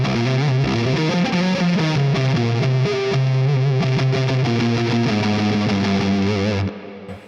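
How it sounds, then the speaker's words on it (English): A distorted electric guitar on its neck pickup through a Quad Cortex modeler plays thick, saturated chords and riffs with a heavy low end, loud and continuous before cutting off abruptly at the end. "Normal routing, this is the sound of neck pickup."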